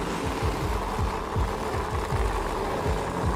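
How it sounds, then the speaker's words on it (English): A drag racing car engine at a racing event holds a steady, dense mechanical rumble with rapid rhythmic pulsing, heard from a distance under broad crowd and track noise, without clear revving swells. "Jeff bringing up those RPM."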